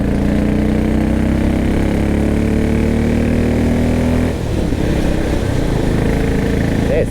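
A 2023 Royal Enfield Bullet 500 motorcycle engine drones loudly and steadily as the bike rides along in third gear, its pitch slowly rising before a brief dip and shift.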